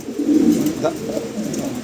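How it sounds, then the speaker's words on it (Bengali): A pigeon at a pigeon sales showroom gives low, throaty coos in a rolling run, fairly close and clear, with faint voices in the background. "খুবই চমৎকার একটা কবুতর"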